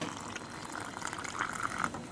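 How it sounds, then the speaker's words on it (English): A small amount of hot water pours into a cup to make a Milo chocolate drink. The trickle and splash are soft and close, with no talking. "Now let's go put it in"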